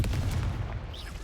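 A Confringo fire spell from Hogwarts Legacy goes off as one loud, booming blast with a rumbling low end. It fades over about a second and no one talks over it.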